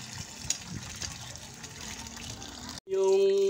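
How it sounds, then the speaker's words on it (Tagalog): Water gushes steadily as it is poured off from a cooking pot while preparing ginataang laing with taro leaves, a continuous splashing pour that stops abruptly and gives way to a steady tonal hum. "Tatanggalin natin yung tubig yan."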